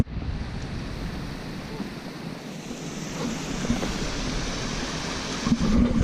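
Rushing water from a waterfall roars in a continuous broadband wash, with wind buffeting the microphone and a few louder thumps near the end.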